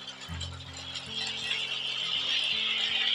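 A model electric train, the Cévenol with three coaches, runs over a small miniature railway layout, giving a steady mechanical whirring and clicking with rhythmic rail-joint ticks, close and continuous without any talk.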